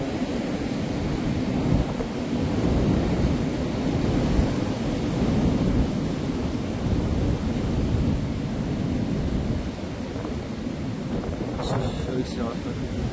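Wind gusts from Storm Floriane on 5 January 2025 roar steadily outdoors as a heavy, rumbling buffeting against the microphone, with a brief rattle near the end.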